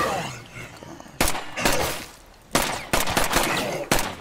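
Loud gunfire bursts from the video game State of Decay 2: several sharp, close shots spaced irregularly over a dense, noisy in-game background, with a voice in the mix.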